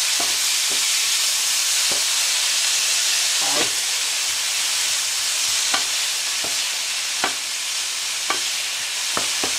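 Food warming in a frying pan, an already-cooked mix briefly heated, gives a steady broadband sizzle and hiss with scattered soft clicks of stirring, close and continuous throughout.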